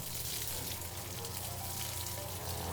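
Water pours steadily onto soil treated with vermicast, giving a dense, continuous hiss and splash at close range with no break.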